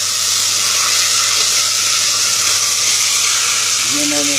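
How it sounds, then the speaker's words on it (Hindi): Crab meat frying with ginger garlic paste gives a steady, loud sizzle and hiss close by, continuous throughout, with a faint murmur of voice near the end. "मैं इसको केकड़े के गोश्त को भूनूंगा"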